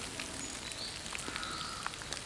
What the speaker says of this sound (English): it's hammering down with rain now